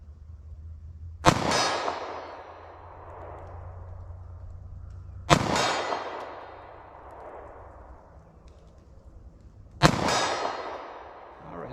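Three sharp metallic clangs of compact 9mm and .40 S&W Sig Sauer Elite Defense handgun rounds striking a steel target, spaced about four seconds apart, each ringing out and decaying over a low background hum, with no talking.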